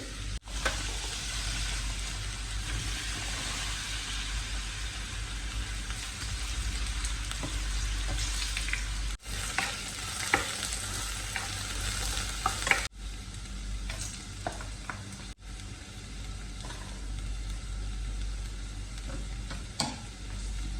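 Chopped vegetables for Kerala Onam sadya chattichor fry in a hot pan, a steady dense sizzle with stirring scrapes and brief dips as the spoon moves, continuous and close with no talk.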